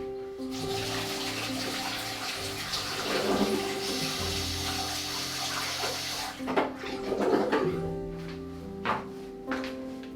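A watercolour brush swished and rinsed in a water jar, with continuous close splashing and sloshing, a few knocks against the container, and louder agitated bursts toward the end.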